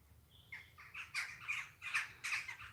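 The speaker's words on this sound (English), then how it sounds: "Or are the birds like too loud now?" Crows cawing outdoors at roosting time, a run of about six harsh squawking calls in quick succession at moderate distance, fairly faint with no talk.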